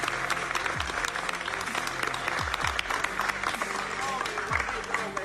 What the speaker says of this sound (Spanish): yo creo que usted le dé un aplauso a Joaquín